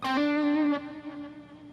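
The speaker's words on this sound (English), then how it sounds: "This is a very typical kind of delay and reverb that I would use for something like this." A single sustained electric guitar note, thick with delay and reverb for blues soloing, rings out and then trails off into a fading echo.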